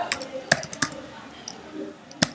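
A handful of sharp, irregular key clicks from someone typing, close and fairly quiet, with soft background noise between the taps.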